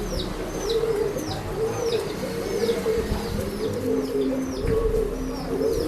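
Pigeons coo steadily at a pet shop selling breeding birds, with occasional chirps and higher calls over a constant low background hum.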